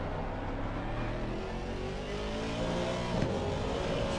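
A race car engine drones and revs steadily at Spa in the racing game Assetto Corsa Competizione, a continuous loud whine with a slight rise in pitch toward the end.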